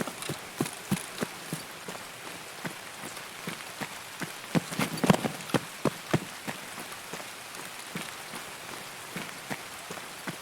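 Rain falls steadily in Escape from Tarkov, a dense hiss with many sharp drop impacts at irregular intervals, close and fairly loud, without talk.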